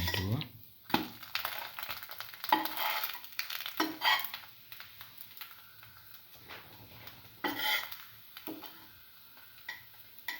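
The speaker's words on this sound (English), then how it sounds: "Let it fry further." A soy chunk tomato French toast sandwich frying in a pan, with scattered scrapes, taps and crackles from a spatula over a faint sizzle, close and irregular.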